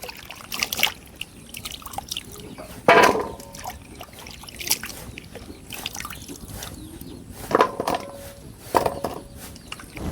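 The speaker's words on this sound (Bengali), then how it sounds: "তো পানি দেওয়ার পর মিষ্টি কুমড়া 2 থেকে আমি 3 বার ধুয়ে নেবো" Chunks of sweet pumpkin rubbed and rinsed by hand in water, intermittent close sloshes, drips and trickles with a few sharper splashes between quieter moments.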